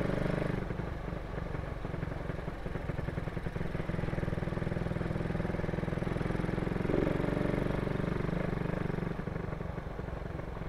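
A Raider 150 motorcycle with a 28mm carburetor idles roughly and misfires, its RPM jumping unevenly in a continuous, fairly loud, uneven engine drone heard up close.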